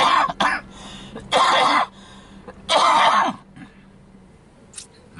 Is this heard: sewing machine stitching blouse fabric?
no